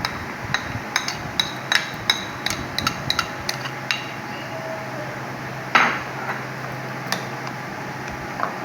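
A spoon mixing chana chaat ingredients in a bowl, with repeated light clinks and taps against the bowl in an uneven rhythm and one heavier knock.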